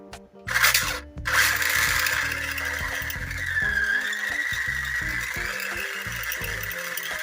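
A Tamiya TT02 radio-controlled car runs at about half throttle, its electric motor whining steadily close by, with tire scuffing, rattles and brief louder bursts early on.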